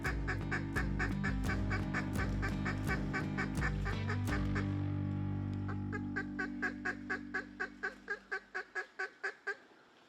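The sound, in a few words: mallard ducks quacking in Arkansas flooded timber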